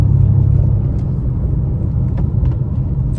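Mitsubishi Mirage on freshly installed KYB shocks rolling over road bumps, a steady loud low rumble of tyres and cabin noise with a few faint knocks from the suspension.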